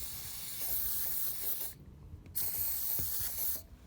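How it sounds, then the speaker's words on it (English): Two sharp bursts of aerosol lubricant spray hiss close by onto caravan corner steadies, each lasting about a second, separated by brief silences. "I've given them a jolly good spray"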